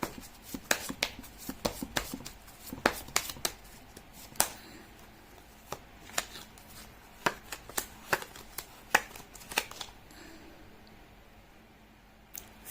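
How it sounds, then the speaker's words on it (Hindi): Tarot cards being shuffled by hand, giving a series of sharp, irregular snaps and riffles up close, some bursts quick and clustered, others spaced out, fading to near silence at the end. "लेती हूँ कार्ड की शफलिंग।"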